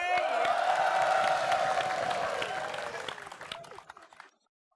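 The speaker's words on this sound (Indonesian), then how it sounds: "Iya, coba beri tepuk tangan sekali lagi untuk Cut Memeng" A studio audience at an Indonesian night-time talk show gives a round of applause for guest Cut Memeng, steady clapping with a few whoops that swells, then thins out and stops abruptly near the end.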